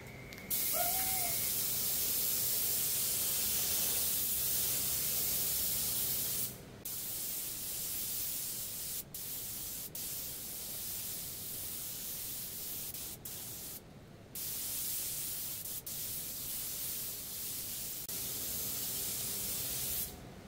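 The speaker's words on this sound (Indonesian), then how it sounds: "Kita semprot 2 lapis tanpa jeda atau sekali jadi." A spray gun lays down two coats of clear lacquer without a pause, a loud, steady close-up hiss that runs for about twenty seconds with a few brief breaks.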